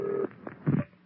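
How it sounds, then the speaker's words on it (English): A telephone rings on a San Francisco radio call-in show: a steady electronic tone, then a couple of short ringing bursts, close and moderately loud, with no talking. "I think I hear the phone ringing."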